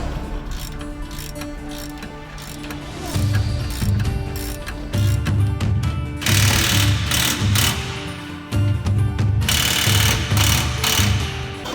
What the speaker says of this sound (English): Now I can tighten those up. I got the ratchet ready to go.